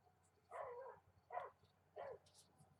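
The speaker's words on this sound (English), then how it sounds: "My neighbor's dog." A small beagle gives three distinct barks at a steady interval, faint and somewhat distant, over a quiet low hum.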